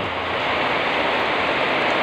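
Rain falls steadily in Cavite, a dense, even wash of noise that stays constant throughout with no voices.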